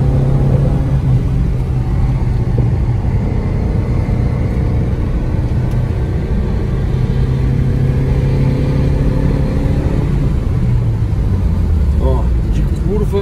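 Steady engine drone and tire rumble from a 1995 Dodge Neon Sport Coupé pushed hard through a curve, with the tone rising and falling as it revs, under continuous close talking throughout.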